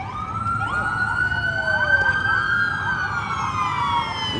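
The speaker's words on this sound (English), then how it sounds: "I hear the lights and sirens going off here." A loud police emergency siren wails nearby, its tone sweeping up and down over a low rumble of traffic, with no voices.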